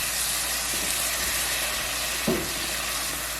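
A pan sauce for pork chops with onions being deglazed, giving a steady broadband sizzle and steamy hiss throughout, with a brief louder splash or scrape partway through.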